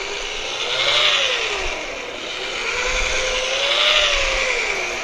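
A rotary buffer spins a wool pad at about 1200 RPM over fresh car paint, polishing compound into a shine; a close, steady whine swells and eases in slow waves as the pad moves across the panel, with no talking.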